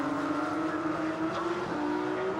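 A Porsche GT3 Cup race car with some mechanical trouble circulates the track at Taupo Motorsport Park, its engine drone steady and fairly distant with a sustained pitch that shifts slightly, no voices heard.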